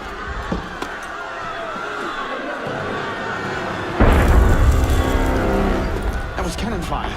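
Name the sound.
cannon fire in Assassin's Creed Unity video game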